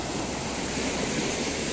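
Strong sea waves along Roxas Boulevard after sunset, a steady loud roar of surf mixed with wind noise, continuous and unbroken with no voices.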